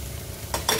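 Onion hitting a pan of frying tuna pastil, a brief steady sizzle that swells into two sharp bursts of crackling as the onion goes in.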